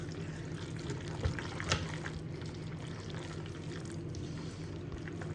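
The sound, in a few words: sauce poured into pasta and mixed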